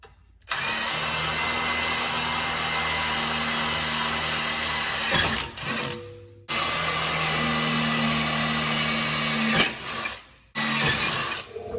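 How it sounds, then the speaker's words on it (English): Power drill boring pilot holes in a metal bracket while installing an AirDog lift pump on a 2011-2016 LML Duramax, a loud steady motor whir running nearly continuously with two brief pauses where the bit stops. "We'll start off with drilling some pilot holes."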